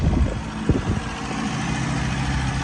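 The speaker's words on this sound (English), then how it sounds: "hopefully there's those of you that will recognise that engine tone" A 1959 MG Magnette MK3 engine runs at a steady idle, a low, even rumble heard close by with a few brief knocks near the start.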